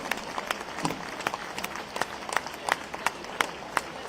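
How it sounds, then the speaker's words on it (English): Applause from a concert audience for young NCC cadets at an Indian Navy symphony concert, a steady patter of clapping with sharp individual claps standing out, moderately near, with faint voices underneath. "have a round of applause for these young NCC cadets"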